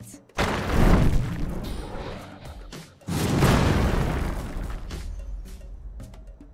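Heavy cannon blasts in the video game Sand Land, two loud booming impacts a few seconds apart, each followed by a long rumbling decay with debris-like crackle.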